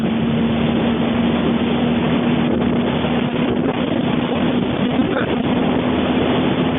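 A chopper motorcycle engine runs steadily throughout with a constant low hum, heavy wind rush buffeting the microphone as the bike rides along in winter.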